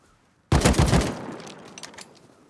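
Abrupt burst of gunfire in Rust: a loud, close volley of rapid overlapping shots that breaks out of near silence and then tails off into scattered fainter pops.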